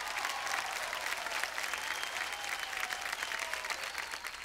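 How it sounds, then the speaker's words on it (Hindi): A studio audience gives enthusiastic applause on a business reality competition show, dense steady clapping that continues loud and unbroken throughout. "जोरदार तालियां हो जाए संजू बाबा के लिए।"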